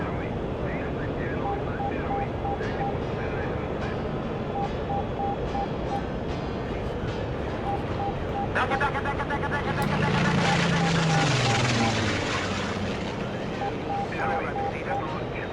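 A MiG fighter jet in the DCS flight simulator game drones with a steady engine roar that swells louder toward the end, while someone talks over it.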